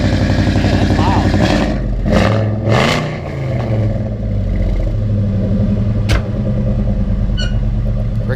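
A Fox-body Mustang notchback with a modular V8 idles loud and close, a steady low rumble with a brief rev swell near the middle; voices talk over it.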